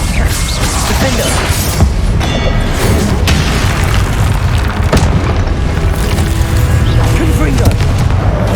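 Confringo blasting spells burst repeatedly in Hogwarts Legacy combat, a dense, loud run of booming explosions and crashes that overlap continuously with no break.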